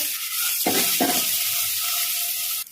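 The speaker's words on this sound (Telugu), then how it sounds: "ఇప్పుడు ఎగ్స్ తీసుకొని ఇందులో ఫ్రై చేసుకోవాలి" Eggs frying in hot oil in a kadai give a loud, bright, close sizzle that fills the clip, with a couple of stirring scrapes near the start before it cuts off abruptly.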